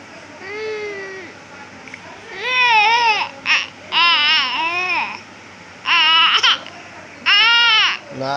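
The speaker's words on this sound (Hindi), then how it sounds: "ना, रोते नहीं, फिर रोना नहीं, रोना नहीं।" A baby cries in several wavering, high-pitched wails separated by short pauses, close and loud, with quieter babbling sounds between the bursts.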